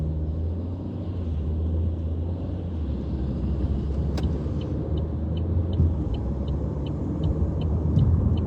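A car drives along the road at about 70, with a steady, loud low rumble of engine and tyres heard continuously from inside, plus faint high ticking.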